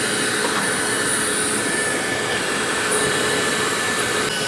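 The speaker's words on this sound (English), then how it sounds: "I'm gonna start vacuuming all that gook right here." A vacuum cleaner sucks up gook inside a Tesla Model X, drawing about 1,100 watts; its loud, steady roar and whine hold constant throughout with no talking.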